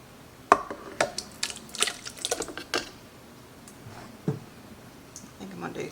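Hot homemade ketchup is ladled into a pot: soft wet pours, drips and light clinks of the ladle against the pot, close and fairly quiet, while a person talks over it.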